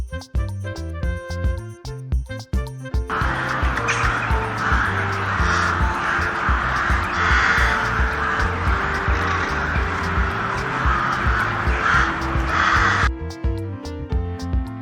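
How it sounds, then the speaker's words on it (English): A crow caws repeatedly for about ten seconds in the middle of the clip, loud and close, over cheerful background music that plays throughout. "Crow."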